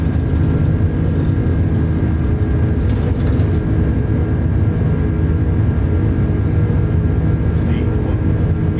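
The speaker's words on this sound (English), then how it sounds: "Takeoff power is set. Airspeed is alive." Airbus A330-200 takeoff roll in Microsoft Flight Simulator 2024: a loud, steady low engine roar with a constant whine, sustained throughout as the aircraft accelerates, with speech partly masked beneath it.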